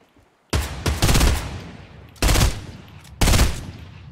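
Gunfire in a Fortnite squads match: three loud, close volleys of rapid automatic shots, the first running about a second, each ending in a trailing echo over a quiet background.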